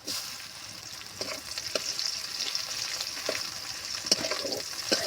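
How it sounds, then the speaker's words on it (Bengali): Onions fry and are stirred in a pan for a radish and potato curry. A steady close sizzle runs throughout with occasional spoon scrapes and taps. "পেঁয়াজ এইভাবে নেড়ে চেড়ে খুব সুন্দর মতো আমি কষিয়ে নেব"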